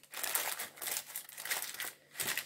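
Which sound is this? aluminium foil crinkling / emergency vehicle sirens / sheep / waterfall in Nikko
aluminium foil crinkling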